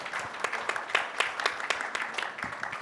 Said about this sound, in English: A round of applause to everyone, please.